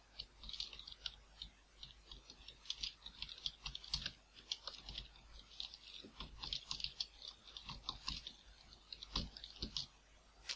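Quiet, steady clicking of keys on a computer keyboard, rapid and irregular taps continuing throughout without any voices.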